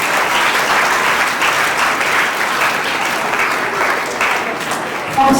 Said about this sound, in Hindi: तालियां सबके लिए होनी चाहिए